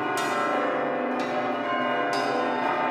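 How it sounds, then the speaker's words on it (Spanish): Church bells ringing in a steady, resonant wash of overlapping metallic tones, with three fresh strikes spaced about a second apart, loud and close. "Tanto siguieron sonando las campanas que comenzó a llegar gente a Comala"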